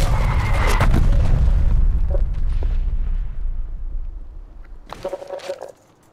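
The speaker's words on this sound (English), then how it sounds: "Artillery inbound." Artillery strike explosions in Call of Duty: Black Ops Cold War, a loud deep rumbling blast that rolls and fades over several seconds, followed by a sharper second burst of impacts near the end.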